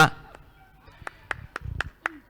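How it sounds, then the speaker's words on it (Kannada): Scattered hand claps ring out at a local cricket league match, TC Palya Premier League, as a guest is welcomed: a handful of separate, fairly faint claps in an uneven rhythm over a quiet background. "ಜೋರಾಗಿ ಚಪ್ಪಾಳೆ ತಟ್ಟುವುದರ ಮೂಲಕ"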